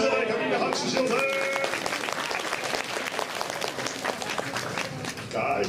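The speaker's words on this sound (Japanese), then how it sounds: "みんな拍手しようぜ。" An audience at the Turtle Talk show at Tokyo DisneySea bursts into applause, lively clapping with cheers and voices mixed in, bright tones over the start and talk returning at the end.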